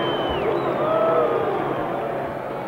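A large arena crowd at the Muhammad Ali vs Oscar Bonavena boxing match boos as a round ends, forming a steady, loud, dense roar of many voices with faint whistles rising through it.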